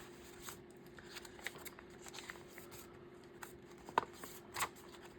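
Scissors trimming lace trim for a handmade French farmhouse-style journal: a few faint, quick snips at close range over a quiet background, with two slightly louder cuts near the end.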